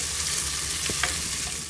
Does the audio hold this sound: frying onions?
yes